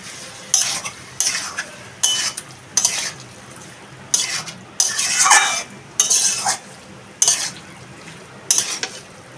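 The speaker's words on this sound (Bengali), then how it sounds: "দিয়ে একটু নাড়িয়ে নেব।" Mashed pumpkin stirred in a pot with a little water, about a dozen evenly spaced bursts of scraping and spoon strokes against the pot over a faint bubbling background.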